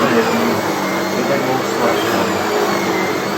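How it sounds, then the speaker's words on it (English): A Sebo D4 Premium ePower vacuum cleaner runs steadily with a constant whooshing motor hum, close by and unbroken throughout. "you could probably do your vacuuming with that"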